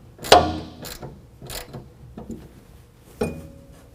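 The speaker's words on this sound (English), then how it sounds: "we're going to go ahead and tighten up our hose clamps. We can either use a 1/4 inch ratchet or a flathead screwdriver" A 1/4 inch ratchet tightening hose clamps during a truck toolbox install, heard as a few separate sharp clicking ratchet strokes with short pauses between them, close and fairly loud.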